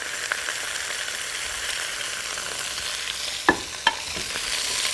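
Vegetables with turmeric and coriander powder sizzle in a pan while being stirred, a steady close frying hiss broken by two sharp scraping clinks of the utensil near the end.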